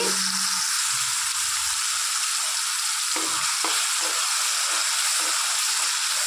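Ground masala paste sizzles and fries steadily in a hot pan with curry leaves, a continuous close, bright hiss with occasional stirring scrapes, no voices.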